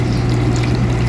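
The small water pump inside an inexpensive air cooler runs with a steady, low, close hum and a faint watery churn. The sound is continuous and unchanging, with no voices.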